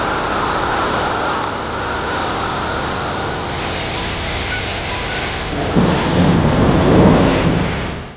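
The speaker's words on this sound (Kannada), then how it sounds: "ಇತ್ತ ಕರುನಾಡಲ್ಲೂ ಧಾರಾಕಾರ ಮಳೆಯಾಗುತ್ತಿದ್ದು" Heavy downpour in Karnataka, a dense continuous hiss of rain with low rumbling swells like thunder building near the end, loud and steady throughout.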